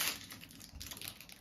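Close, quiet crinkling of a thin plastic packet, a few irregular rustles and crackles over about a second and a half, with no voices.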